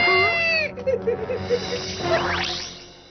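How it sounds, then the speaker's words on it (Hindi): A cat meows in a wavering, drawn-out cry, followed by a rising, yowling wail; no talking. "डरावनी बिल्ली।"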